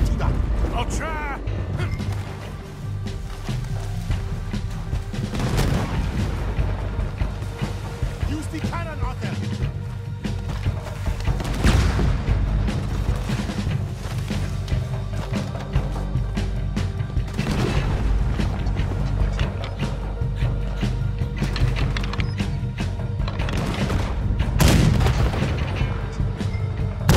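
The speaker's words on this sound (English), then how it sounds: "there's another cannon up ahead on our left" Repeated cannon blasts boom during a ship battle in the Western video game Red Dead Redemption 2, heavy low explosions recurring every few seconds over continuous battle din, with people talking throughout.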